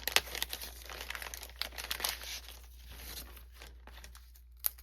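Adhesive strips for card-making peeled from backing and torn, close crinkly crackling and rustling with several sharp snaps, no voices.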